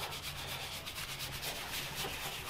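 A bristle horsehair brush scrubs a leather car steering wheel, giving steady, close, rhythmic scratchy rubbing strokes throughout, with no talk.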